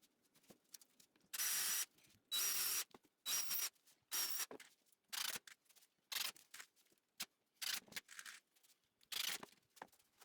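Pallet hardwood shoe rack pieces being screwed together, heard as a series of loud, close bursts of a power driver, each lasting about a third of a second, repeating irregularly with short gaps between.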